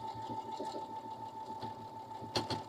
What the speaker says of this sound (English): we're going to let the machine sew out the buttonhole